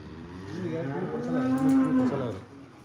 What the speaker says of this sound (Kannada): ಕರುಗಳೆಲ್ಲ ಬರ್ತಾ ಇವೆ ಇವೆಲ್ಲ